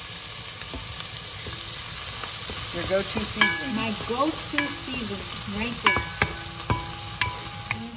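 Two tablespoons of sofrito sizzling in a pan for Puerto Rican-style canned beans, with a steady close frying hiss and sharp stirring clinks and scrapes of a utensil against the pan, while a person talks briefly.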